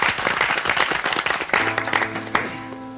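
An audience claps in a dense, lively burst at a concert before a song, the applause carrying on as sustained musical tones rise beneath it partway through.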